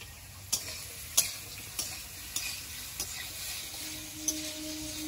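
Potatoes fry in oil with whole tempering spices for a vegetarian dish, a close sizzle broken by sharp spatula taps and scrapes at a regular pace, roughly every half second.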